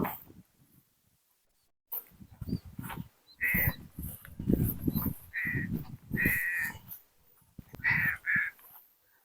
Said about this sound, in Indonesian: Di atas sana ada burung gagak, Sapo.